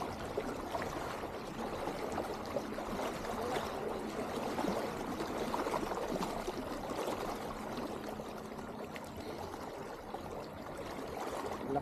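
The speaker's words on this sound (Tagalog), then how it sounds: "Lakas ang agos." A strong river current rushes steadily in a broad, continuous wash of flowing water, close and even throughout with no voices.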